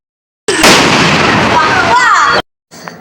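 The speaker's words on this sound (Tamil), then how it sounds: "அப்படியே பட்டாசெல்லாம் வெடிச்சிட்டு அப்படியே ஃபன் பண்ணின்னு" Firecrackers set off at night during the Ganesh festival make a loud, close, crackling roar that runs for about two seconds, then stops abruptly, followed by a faint pop and some whistling.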